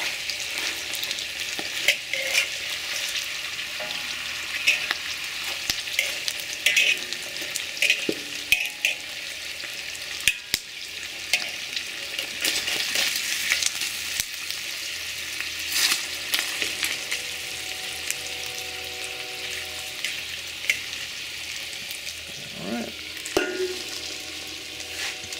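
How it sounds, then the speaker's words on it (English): Pork cracklings fry in a pot for Latin-style chicharrón, a constant sizzle broken by scattered sharp pops and occasional scraping as the pieces are stirred, with no talking. "I'm starting to get some pretty good popping going on"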